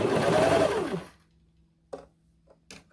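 A sewing machine runs steadily for about a second while stitching a small doll leotard, then stops, followed by a few short clicks and handling taps. No one speaks.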